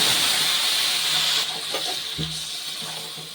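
Marinated chicken coated in spices goes into hot oil scented with whole garam masala, giving a steady broad hissing sizzle throughout with a few soft clunks of the pot and spoon.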